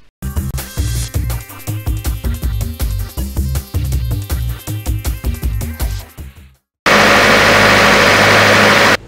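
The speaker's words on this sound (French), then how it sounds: "on ne fait qu'entendre ces bruits des moteurs" Loud generator engines running close by, first a pulsing, chugging rumble, then after a brief gap a steady, harsh roar.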